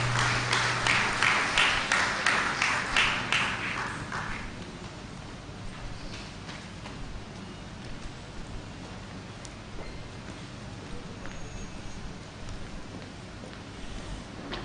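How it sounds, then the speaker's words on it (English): An audience at a finance seminar applauds a speaker, a loud dense burst of clapping for the first few seconds that fades to scattered claps and quiet room noise. "Please, a round of applause for him, please."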